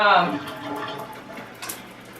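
Tap water pours and splashes while curly hair is rinsed out on wash day, a loud rush at first that settles into a softer, steady running flow.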